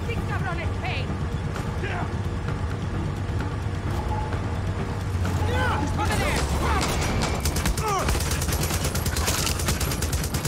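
Vehicles blow up after Molotov cocktails hit them in Far Cry 6, with bursts of fire, crackling and crashing debris over a steady rumble of game noise and gunfire, and voices talking throughout.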